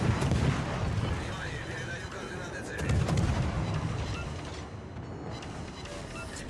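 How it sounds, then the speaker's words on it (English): Heavy warship broadside gunfire booms through a naval battle video game, deep rumbling salvos rolling in two waves while players talk over the action. "There's a Stalingrad giving this broadside."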